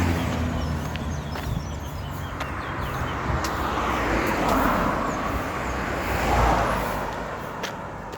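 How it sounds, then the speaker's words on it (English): Steady road traffic on Public Road in Kitty, Georgetown, Guyana, heading into the city from the east coast: a continuous broadband roar of passing cars and trucks, with engine swells building near the middle and late passages, and no talk. "this is traffic coming into Georgetown from the east coast"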